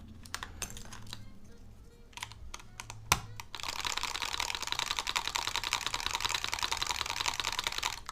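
Rapid, steady typing on a Mode Envoy prototype mechanical keyboard fitted with CRP Desco black keycaps. A few scattered keystrokes and low voices come first, then a dense continuous run of close clicks.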